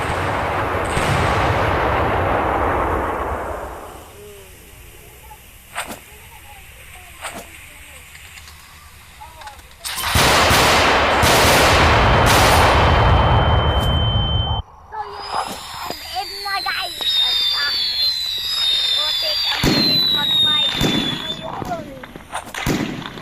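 Firecrackers burst in loud, sharp cracks and rapid crackling volleys outdoors, alternating with quieter gaps and whistling streaks, with some background voices.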